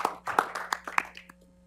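A small board meeting audience claps briefly in a room, a scattered handful of claps that quickly thin out and fade within a couple of seconds.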